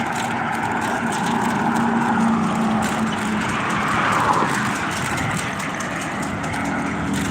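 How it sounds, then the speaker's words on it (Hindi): Vehicle travelling fast and loud on a road, a continuous rushing engine and road roar that swells midway, with no talk over it. "गाड़ी बहुत तेज़ चलता है, तो आवाज़ आप सबके ज़्यादा क्लियर ना सुना हो"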